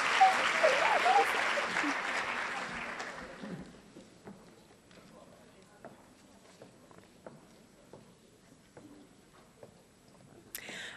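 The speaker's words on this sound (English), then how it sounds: "How about a big round of applause for our STEM grant recipients?" A school rally audience applauds STEM grant recipients, a loud burst of many hands clapping that fades after about three seconds into scattered footsteps, shuffling and murmuring voices.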